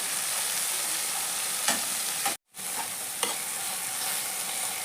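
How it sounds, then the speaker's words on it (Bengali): Chopped tomatoes fry in a pan with a steady, bright sizzle, close and even throughout, broken by a brief gap and a couple of soft stirring knocks. "টমেটো একটা কাঁচা গন্ধ যাওয়া পর্যন্ত ভেজে নেব"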